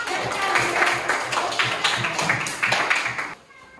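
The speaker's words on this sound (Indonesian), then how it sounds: "Tepuk tangan untuk kelompok 1." A class claps together in a steady, lively burst of applause that fades out near the end.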